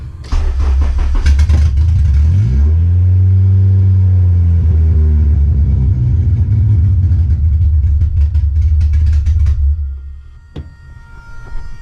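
Honda Civic EK with a swapped-in K-series engine firing for the first time: a short cranking whir, then the engine catches into a loud, rough idle that rumbles steadily before abruptly shutting off.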